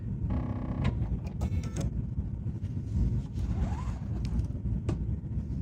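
A Bernina 990 sewing machine stitches a quilting pattern, a steady mechanical hum with faint rhythmic needle clatter running continuously, with small creaks and clicks on top and no talk.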